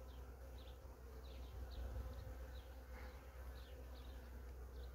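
Honey bees buzzing around an opened hive, a dense, steady drone close by, with individual bees whining past now and then over a low background hum.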